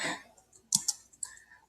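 Fingers tap on a computer keyboard nearby, a few faint, irregular clicks spaced apart with short pauses, quiet and alone.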